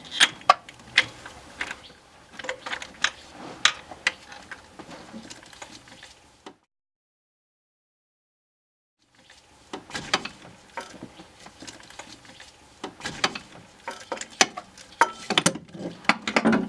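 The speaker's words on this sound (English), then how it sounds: "Let's get the wrench and break them loose." Light metallic clicks and rattles from a wrench loosening the spark plug wires on a 1988 Mazda RX7 Turbo, close and fairly faint, stopping for a few seconds of silence midway before resuming.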